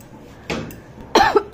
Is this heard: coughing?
yes